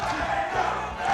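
A crowd at an esports tournament chanting a player's name, a sustained roar of many voices filling the space with a rhythmic swell.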